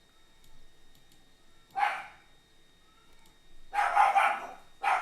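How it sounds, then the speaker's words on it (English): A dog barks outdoors, a short burst near two seconds and then a louder run of barks toward the end, heard at a distance with no talking over it. "my dog's barking outside for some unknown reason."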